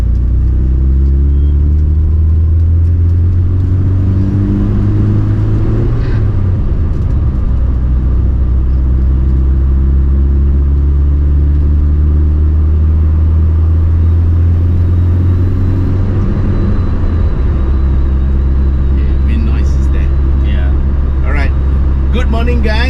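A BMW 2002 Tii Turbo drives along a mountain road at Genting, its engine rumbling low and steady throughout with a few swells of revving, loud and close inside the cabin, while a person talks over it.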